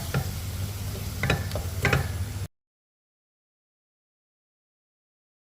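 Close sizzling and frying of chicken with mushrooms in a pan, with a few sharp taps of a utensil against the pan, cutting off abruptly into silence.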